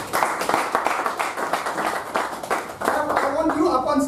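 An audience at a Toastmasters-style education session claps and applauds, a continuous wash of many hands at medium volume that swells again after a brief dip, with a voice speaking over it.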